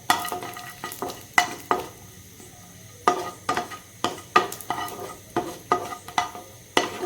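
Cashews frying in ghee in a pan for simei khiri, with a spoon scraping and stirring in sharp repeated strokes over a soft steady sizzle, close and clear without talk.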